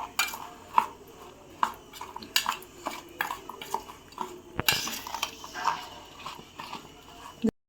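Mango pickle being stirred in a pan, a close series of metallic spoon clinks and scrapes against the pan in an uneven rhythm, quiet to moderate, with a soft sizzling underneath.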